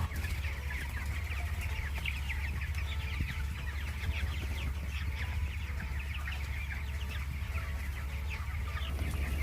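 Many chickens clucking steadily inside a tunnel-ventilated poultry house. A dense chorus of clucks sits over a constant low hum of ventilation fans, with no talking.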